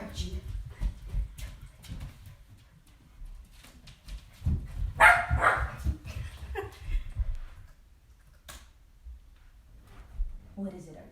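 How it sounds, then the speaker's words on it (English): A dog named Archie barks in short bursts indoors, nearby and moderately loud, while a person talks to him between the barks. "Archie, why are you barking?"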